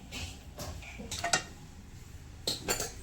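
A pan set down on a gas stove gives a few light metallic clinks and knocks, near and moderately loud, with short pauses between them and no voices.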